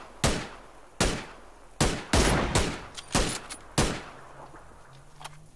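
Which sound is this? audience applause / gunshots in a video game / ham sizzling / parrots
gunshots in a video game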